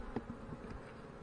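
Honey bees buzz faintly around comb in an open hive box, a soft, steady drone with a brief louder rise near the start.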